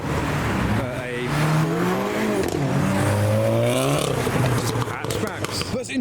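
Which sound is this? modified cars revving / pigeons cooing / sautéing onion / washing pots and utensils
modified cars revving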